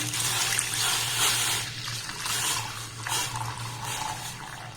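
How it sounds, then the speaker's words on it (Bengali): Liquid milk poured into a karahi pan, a steady, close splashing and trickling stream that rises and falls in waves for several seconds over a low background hum. "এবার এখানে দিয়ে দেবো লিকুইড দুধ"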